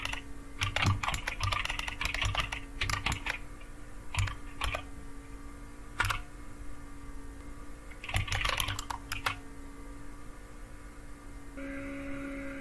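Keys clacking on a computer keyboard as a terminal command is typed in a Fedora 37 Kinoite Toolbox session, coming in quick bursts with short pauses between, close and moderately loud over a steady low hum.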